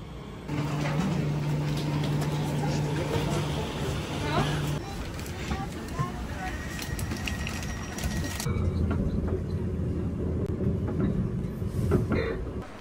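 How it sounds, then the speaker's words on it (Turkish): Interior rumble of a regional commuter train on a short multi-stop ride in Germany, a steady low drone and rattling under ongoing conversation, with a tonal hum fading out midway as the carriage sound shifts. "Trenimiz bu."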